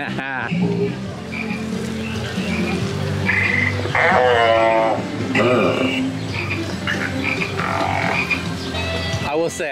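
Frog croaks ring out from the interactive Swamp Symphony attraction in DreamWorks Land at Universal Studios Orlando, a dense, busy run of bubbly croaking tones over crowd ambience and background music.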